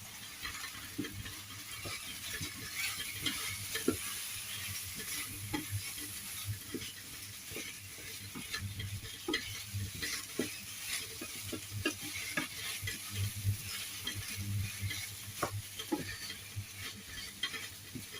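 Chicken adobo with potatoes cooking in a pan, a quiet continuous sizzle broken by repeated scraping and clinking strokes from a spoon stirring the pieces.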